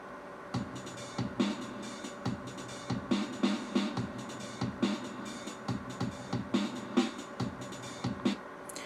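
A four-bar Pocketband loop of bass, drums and open and closed hi-hats, playing as a steady, evenly pulsing beat at moderate level with no voices.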